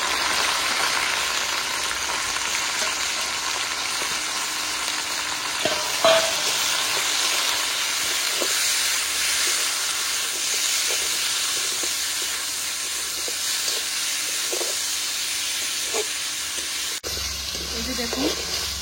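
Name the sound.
marinated chicken sizzling and frying with browned onions in pan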